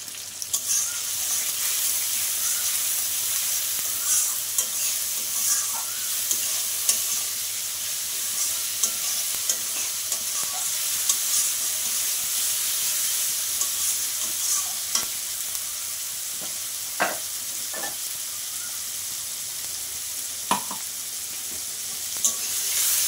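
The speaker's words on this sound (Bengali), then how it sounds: "দেখো মশলাটা দিয়ে তো একটু ভেজে নিলাম।" A ground paste of cumin, ginger and chilli fries with onion and tomato, giving a continuous bright sizzle with occasional clicks of stirring throughout.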